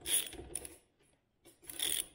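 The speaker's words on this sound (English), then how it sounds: "So I'm going to loosen the hangar bolts." A half-inch wrench works on the hanger bolts of a Craftsman garage door opener, giving two short bursts of metallic ratcheting clicks separated by a quiet pause, fairly faint and close.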